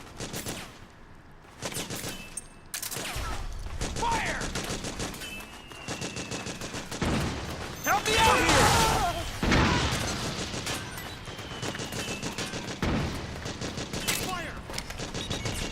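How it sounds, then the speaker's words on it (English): Metal Gear Solid 4: Guns of the Patriots battle with steady suppressing gunfire, dense automatic bursts and sharp shots rattling on throughout, with crashes and a heavier blast swell near the middle. "Suppressing fire!"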